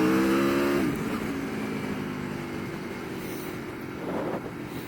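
An Aprilia Tuono 1100 Factory V4 motorcycle accelerates hard to overtake a car on a road ride out to Finchingfield, its engine note climbing then dropping at a gear change, followed by sustained close wind and engine roar.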